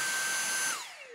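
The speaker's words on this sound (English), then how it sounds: "If the screws are removed and you're running the vacuum, the battery doesn't have to pull out very far for the motor to stop." A Dyson V6 cordless vacuum cleaner motor whines at a high, steady pitch, then abruptly spins down as power cuts off, close and loud.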